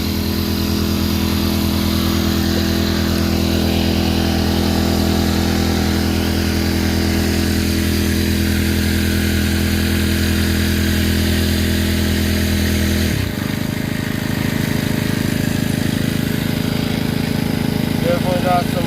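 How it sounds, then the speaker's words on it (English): A gold dredge engine runs steadily and loud, a constant buzzing drone with strong harmonic hum that shifts pitch partway through before settling back into its continuous roar. "The dredge is running good."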